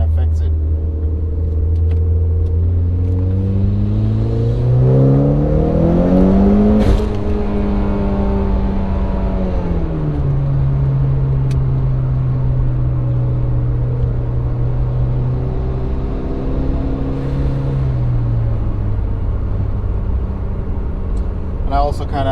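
A Mitsubishi Evo X MR on a dyno revs up in clear gear pulls, engine pitch climbing then dropping at each shift, loud and close, with someone talking over it.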